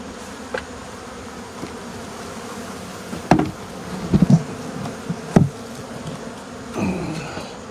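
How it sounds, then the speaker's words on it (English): Honey bees buzz in a steady, close drone beneath the floor of a small shed, with a few knocks and thumps on the wooden boards breaking in over the humming. "Show you all these bees underneath this building."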